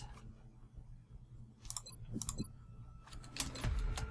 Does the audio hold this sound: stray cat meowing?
no